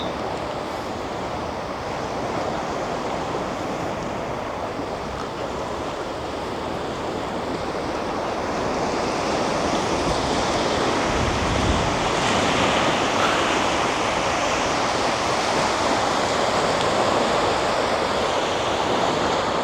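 Ocean surf washes onto a beach in a steady, loud roar of breaking waves and wind, swelling slightly later on, with no voices.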